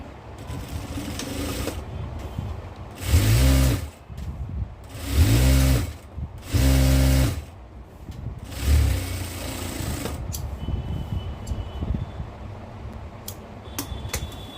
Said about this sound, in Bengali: ডবল সেলাই দিয়ে নিয়েছি এখন সাইডটা সেলাই কমপ্লিট